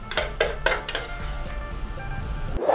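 A knife works on a board as meat is chopped for Thai larb, giving a quick run of close, crisp knocks and clinks. A faint hum sits underneath, and a soft rustle comes at the end.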